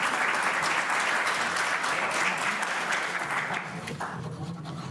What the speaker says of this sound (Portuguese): A Unimed Federação Minas Gerais, os nossos aplausos especiais mais uma vez.